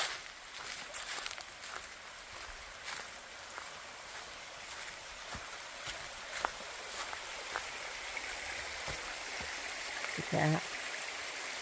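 A stream of flowing water beside a hiking trail makes a soft, continuous wash in the background, with a few footsteps and scuffs and a brief spoken remark near the end.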